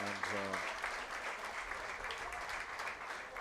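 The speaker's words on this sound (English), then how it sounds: "a massive round of applause for Caroline O'Hanlon there as she goes off" A stadium crowd at an Armagh v Mayo All-Ireland Senior ladies' championship match applauds as a player leaves the pitch: steady, broad clapping throughout, with a voice briefly heard at the start.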